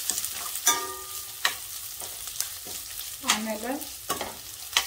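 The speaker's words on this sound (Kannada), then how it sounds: "ಒಂದು ಗಂಟೆ ಕರಿಪತ್ತ ಹಾಕೊಳತ್ತೀನಿ ರೀ." Raw mango rice being tempered: curry leaves torn into hot oil crackle and sizzle with sharp pops and stirring scrapes, while a voice speaks briefly in the middle.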